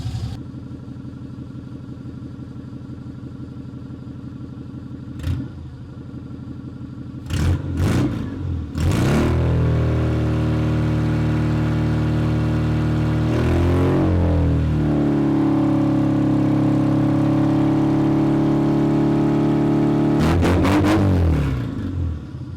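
A classic Mini engine, started for the first time in two years, turns over and catches, then settles into a steady, rumbling idle, briefly revved a couple of times; close and loud throughout.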